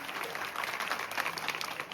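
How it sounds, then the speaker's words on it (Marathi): A school audience claps for costumed child performers, with dense, steady applause from many hands filling the short moment at a moderate distance. "या सर्व कलाकारांसाठी टाळ्या वाजून आपण कौतुकाने आनंद व्यक्त करूयात"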